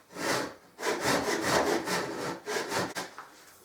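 A hand saw cutting walnut for an archtop mandolin: steady, loud, close rasping strokes in a back-and-forth rhythm, with a brief pause near the end, heard alone without talk.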